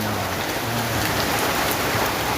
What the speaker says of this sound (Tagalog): Wala nang tigil yung ulan